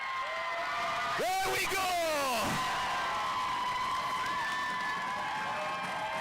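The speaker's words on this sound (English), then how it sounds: "I think the crowd are happy." A crowd at an England vs Wales Quad Nations game erupts in whoops, yells and cheers with clapping, a loud swell peaking midway, while a commentator's voice speaks over it.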